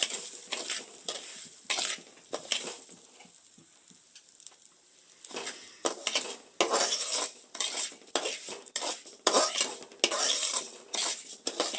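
Bombay semolina roasting in ghee in a pan, with a spoon scraping and stirring in repeated bursts, a quiet gap midway, then louder rhythmic scrapes and faint sizzle close by.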